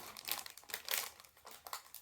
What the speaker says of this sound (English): there's going to be a bit of plastic crinkling